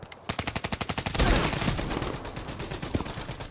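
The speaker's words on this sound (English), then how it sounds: "Under sentry fire." Sentry gun firing in Black Ops 3: a rapid, evenly spaced burst of automatic shots, then a heavy blast, followed by scattered further gunfire.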